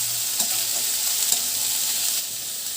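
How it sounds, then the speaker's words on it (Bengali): Boiled potato, beet and carrot stirred together in a hot pan give a steady close sizzle with a few light scrapes of the spoon, no voices. "সেদ্ধ করা আলু বিট গাজর সব একসাথে মিশিয়ে দিচ্ছি।"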